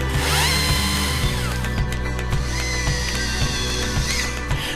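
A Husqvarna professional battery chainsaw runs with a high, steady electric whine and small shifts in pitch as it works, sounding close and fairly loud with no speech.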